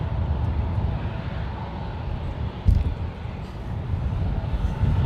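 A United airliner taking off from runway 28 left at San Francisco International Airport, heard as a steady, low broadband roar with a wind-buffeted rumble and one brief thump partway through, no talk.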